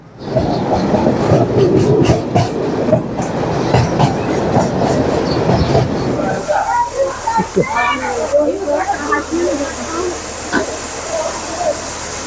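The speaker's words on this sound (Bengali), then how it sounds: "আমাদের ট্রেনটা যাত্রী মানে ভ্রমণ শুরু করলো আর কি নারায়ণগঞ্জের উদ্দেশ্যে" Rumbling of a moving commuter train on rails, loud at first then easing into a quieter rolling hum, with people talking over it.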